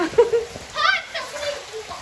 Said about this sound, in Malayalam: ഇത് രസമാണെന്ന് നോക്കി നല്ലൊരു മഴ